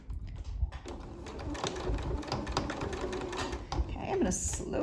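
A home sewing machine stitches a fabric medical mask with a filter pocket, its steady mechanical whirr running close and continuous, pausing briefly near the start, while a person speaks over it.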